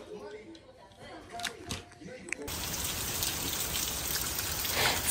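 Rain falls by a porch where grilling goes on, starting faint under some handling noise and a voice, then turning into a loud, steady hiss of close rainfall for the second half.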